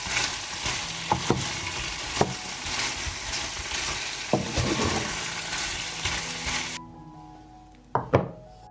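Meat sizzles and spits steadily in a hot pan on a stove, with a few sharp knocks and utensil clatters scattered through; the broad frying hiss cuts out near the end, leaving a couple of louder clunks.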